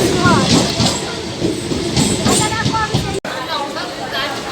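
A passenger train pulls into Ranaghat, its loud, steady rumble and rail clatter filling the whole stretch while voices talk over it, with one brief sharp dropout near the end.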